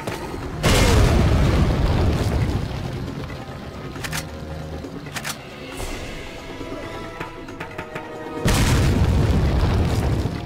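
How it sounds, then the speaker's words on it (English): Grenade blasts from Resident Evil 4's Assignment Ada mode: one loud, booming detonation with a rumbling tail, scattered crashes and pops, then a second big boom near the end. "I need a grenade. I have plenty of these. I'm just gonna use it."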